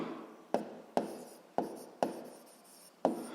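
Pen scratching on paper while working a seventh-grade physics exercise, five quick close strokes at a steady rhythm, quiet and alone with no talking.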